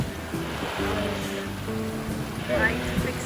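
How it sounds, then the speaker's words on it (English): Gusty, shifting wind and wave wash around a sailing boat at sea, a steady broadband rush with engine-like hum beneath. "The wind is very shifting."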